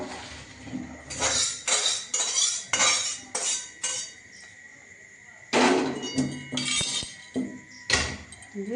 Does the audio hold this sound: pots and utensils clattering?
yes